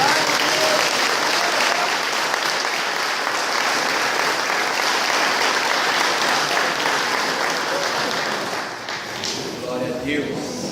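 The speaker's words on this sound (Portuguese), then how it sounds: "Pode aplaudir ao Senhor." A church congregation applauds during worship, loud sustained clapping from a large crowd filling the room, tapering slightly near the end as a voice and other sounds begin to emerge.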